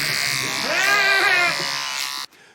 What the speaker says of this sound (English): Nabal was clipping the wool off his sheep